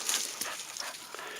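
Soft, high-pitched dog whimpers and small yips come from a free-roaming female dog out in the woods, faint and intermittent over a short moment.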